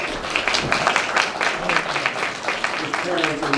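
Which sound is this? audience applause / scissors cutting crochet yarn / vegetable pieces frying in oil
audience applause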